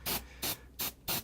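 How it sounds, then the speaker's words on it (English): An airbrush sprays paint onto a homemade Legions Imperialis model tank in four short, evenly spaced hissing bursts with brief pauses between them, close and fairly quiet. "spray my airbrush similarly to the way I sprayed the white spray paint"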